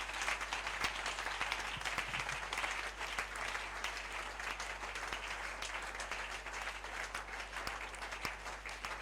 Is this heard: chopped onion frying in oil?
no